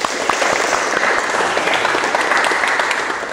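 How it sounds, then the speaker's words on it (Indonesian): A vocational school class studying light vehicle engine maintenance claps hands together in a classroom, producing a brief, steady burst of dense, close applause. "Kita tepuk tangan dulu."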